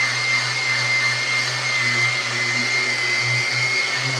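DeWalt orbital sander running with a Festool vacuum attached while shaping a skateboard deck, a continuous loud whirring drone with a steady high whine and slight wavering in pitch, no voices.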